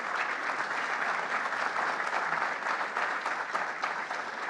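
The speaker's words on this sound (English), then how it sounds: "Please give those teams a round of applause." An audience at an awards closing for student competition teams gives a steady round of applause, a dense, even crackle of many hands held at a constant level throughout.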